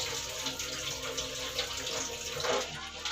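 Tap water running steadily into a sink while hands are rinsed during a handwashing routine, a continuous close splashing hiss with no pauses.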